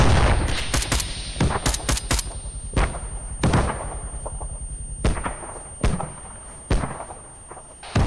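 Rocket explosions and gunfire in the military shooter ArmA 3 crack out as a dense burst of sharp shots early on, then a run of separate loud blasts and reports at irregular intervals over a rumbling battlefield, with no talk.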